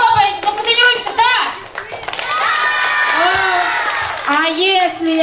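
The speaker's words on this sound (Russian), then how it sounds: "вы кричите «Да!» и громко что делаете? В ладоши хлопаете, ну потренируйтесь" Third- and fourth-grade children at a school New Year party clap their hands in a dense burst while loud, excited young voices shout and call out over and around the clapping.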